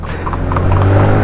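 Horse hooves clip-clop quickly on a hard surface, brief and fairly close, over a steady low motor scooter engine hum.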